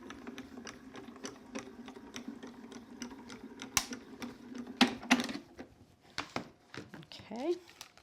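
A cutting plate rolls through a die-cutting machine with quiet, evenly spaced clicking ticks, then some rustling and handling sounds, while a person talks over it.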